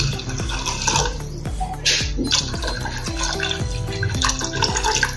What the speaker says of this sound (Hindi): मैंने इसमें 2 ग्लास पानी डाला है।